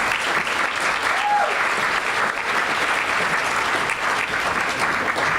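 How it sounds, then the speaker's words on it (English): Audience applause for a speaker at a PechaKucha event, a steady dense clapping from a crowd that holds at full strength throughout without a break. "Let's give her a round of applause"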